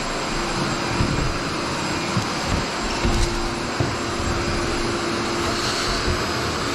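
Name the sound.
DIY dust extraction vacuum running on concrete grinder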